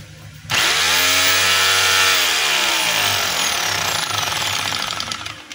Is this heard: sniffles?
no